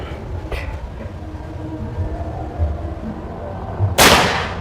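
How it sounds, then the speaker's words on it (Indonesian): A single sharp crack of a PCP air rifle, project MH generation 2, sounds near the end over a low outdoor rumble, close and abrupt with a brief tail. "Tembakan ke 5, sekarang tembakan ke 6"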